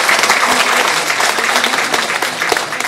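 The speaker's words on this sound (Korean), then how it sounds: "박수 한번 같이 한번 보내주셔서 부탁드리겠습니다" Sustained applause from an audience at a Korean book launch event, steady and dense throughout with no talk over it.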